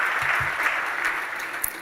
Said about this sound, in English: Look at Pauline clapping away.